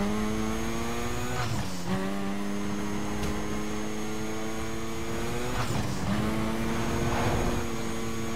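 A racing car engine drones in Need For Speed: Carbon, holding a steady harmonic whine and twice dropping sharply then climbing again as the gears shift, with no talking.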